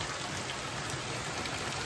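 Heavy rain falls in Porbandar district during severe flooding, a steady, even hiss of downpour with no pauses and no voices.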